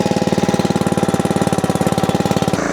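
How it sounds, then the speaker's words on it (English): A small engine on an old wood splitter runs at a fast, even chugging pulse, loud and close, then cuts to a different note right at the end. "Let's fire up the old wood splitter."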